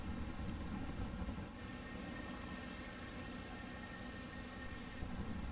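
Steady, droning aircraft engine of a fighter plane in the IL-2 flight simulator game, a continuous dense roar that holds constant throughout, with no talk.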